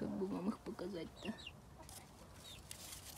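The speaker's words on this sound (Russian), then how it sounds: "Здесь цыплята. Их не видно, но они уже такие огромные." Chickens, grown chicks kept in a home vegetable garden, cluck in a short burst of low, throaty calls at the start, followed by fainter chirps and rustling.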